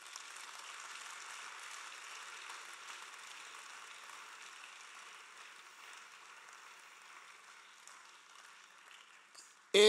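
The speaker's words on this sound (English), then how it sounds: "Let's clap for Jesus for that." A church congregation claps for Jesus, dense, soft, hissing applause spreading steadily from a distance and slowly fading over about ten seconds.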